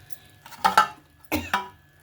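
A spoon scrapes freshly cooked Karachi halwa out of a pot into a serving bowl, with a few short, close scrapes and clinks in two quick pairs, and no talking.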